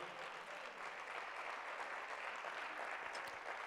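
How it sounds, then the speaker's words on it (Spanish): A church congregation applauds during a Spanish-language sermon, a steady, even wash of many hands clapping at moderate distance that lasts throughout without a break. "Da un aplauso al Señor"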